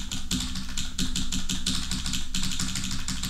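Rapid, relentless key tapping on an osu! keypad during gameplay, a close, continuous clatter of clicks that keeps up an even, driving rhythm throughout.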